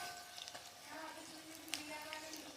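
A rolled sugar paratha fries in a pan with a steady soft sizzle and a few faint crackles and stirring scrapes, close but fairly quiet.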